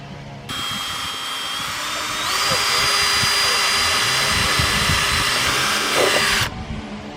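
A power drill bores holes into boards while building a koi pond: a loud, steady, high-pitched whine runs for about six seconds, rising in pitch partway through, then cuts off.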